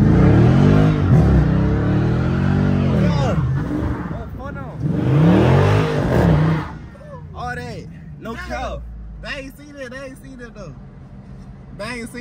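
A Dodge Scat Pack engine revs in loud rising and falling surges up close, with voices talking over and between the bursts of throttle.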